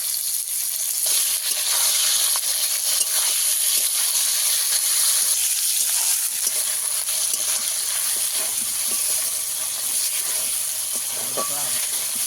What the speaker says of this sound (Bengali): আদাটা কিছুক্ষণ ভেজে নেব